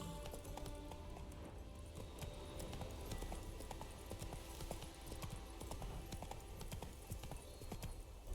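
Hooves of Roach, the horse in the video game The Witcher 3, clatter in a quick, continuous clip-clop rhythm, fairly faint and steady throughout.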